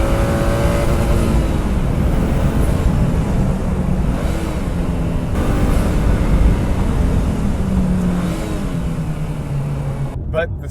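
A 2015 Subaru WRX engine on track during heel-toe downshifts, a loud steady drone with rising and falling rev blips as the pitch sweeps between gear changes, recorded close.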